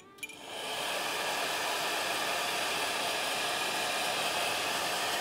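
A heat gun blows a steady, loud hiss of hot air onto toy Xenomorph egg parts to soften them for bending, starting with a brief click and then running as unbroken noise.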